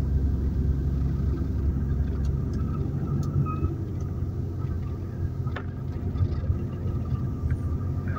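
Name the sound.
car descending mountain road using engine braking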